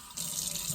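Water runs from a tap into a glass, a brief steady hissing splash that starts abruptly and continues evenly at moderate loudness.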